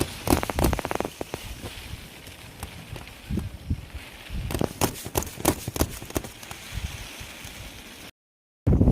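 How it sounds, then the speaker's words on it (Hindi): Rain falls on an open farm field, a steady hiss of drops with scattered louder patters and thumps, broken by a brief silence near the end. "अभी बारिश आ गई है। बारिश का कोई भी ठिकाना नहीं है, कभी भी आ जाती है।"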